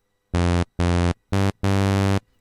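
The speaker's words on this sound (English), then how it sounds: "I'll just play a short note and you'll hear how aggressive that sounds now." Arturia Pigments harmonic engine synth with 512 partials, an aggressive buzzy tone struck as four short, harsh, bright notes with abrupt starts and stops, the last held slightly longer.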